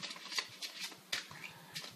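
Playing cards being shuffled by hand, a run of soft riffling bursts and flutters that repeat every fraction of a second, close up and fairly quiet.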